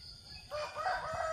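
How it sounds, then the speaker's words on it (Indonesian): A rooster crows in a village in Jonggol, West Java, on a cold morning, one clear, fairly loud crow rising after a brief quiet moment with no one speaking. "Ayam di kampung ini lagi berkokok."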